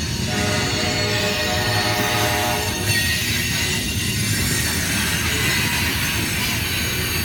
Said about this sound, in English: You hear the squealing here on the Y, the southeast Y.